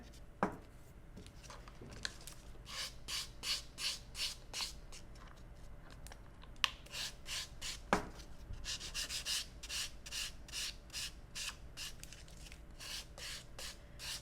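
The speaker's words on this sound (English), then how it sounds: "after finishing the e-file, I'm going to use the buffer" Hand buffer rubbing back and forth over an acrylic nail surface, a soft, close, rhythmic scratchy swish repeated in quick strokes, with a few light clicks between passes.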